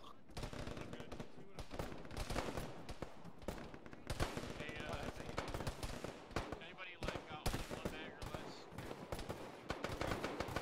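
Sustained gunfire in the Arma military shooter, shots fired out of a building window with 20-round magazines: dense, rapid bursts of shots packed close together, loud and continuous throughout, with voices talking over the firing.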